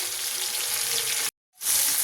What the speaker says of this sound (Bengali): টমেটোটা একটু ভাজা ভাজা হয়ে গেলে তারপরে দিয়ে দেবো মশলাটা।